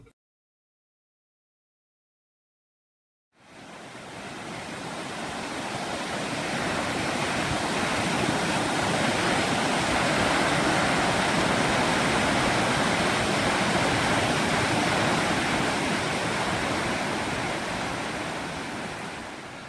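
After about three seconds of silence, a broad steady rush of flowing water swells in and continues evenly, like the Hongryudong valley stream on Gayasan running over rocks nearby.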